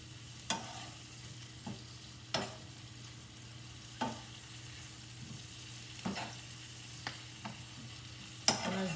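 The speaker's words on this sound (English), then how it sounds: "And as they simmer" Vegetables and spinach simmer and sizzle steadily in a pan, with a soft continuous fry broken by a handful of sharp stirring clatters spaced a couple of seconds apart, close and with no talking.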